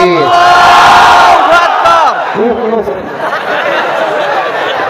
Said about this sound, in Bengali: বিবাহিত ভাইরা চিৎকার দিয়ে বলতে হবে আল্লাহু আকবার।